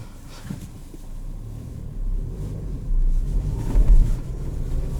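A 2021 Nissan Versa S with a manual transmission driving with one wheel on snow and ice, a low steady engine and road rumble heard from inside the cabin that swells toward the end.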